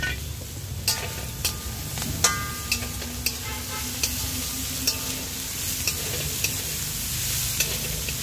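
A spoon repeatedly scrapes and stirs turmeric through food in a cooking pan, tapping the metal in a steady rhythm of about one knock every half second over a soft, continuous sizzle.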